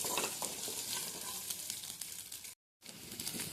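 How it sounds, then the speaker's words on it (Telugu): Onions fry in a pan, a close, steady sizzling hiss with light stirring, broken by a brief silent gap near the end before the sizzle resumes, no talk. "కలుపుకొని ఎర్రగా వేయించుకోవాలండి ఆనియన్స్ని"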